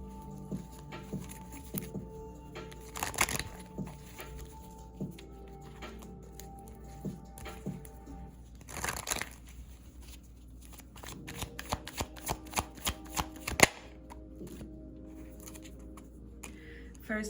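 A deck of tarot-style cards is shuffled by hand in repeated soft riffles and flurries of papery slaps, close and fairly quiet, building to quicker bursts toward the end.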